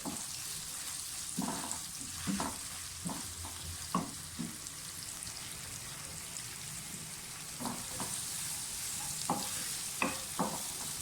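Sliced onions frying in a pan for lobia masala give off a quiet, steady sizzle, broken by brief scrapes and clinks of stirring at irregular moments, with no talk.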